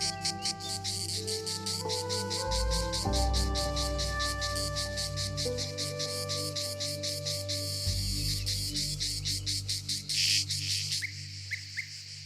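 Male cicadas singing in a Maremma, Tuscany summer: a loud, dense rhythmic buzzing pulse runs throughout, with steady tonal whistling notes layered over it and a brief louder burst near the end.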